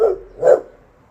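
A dog gives two short barks, the second louder, fairly close with nothing else around.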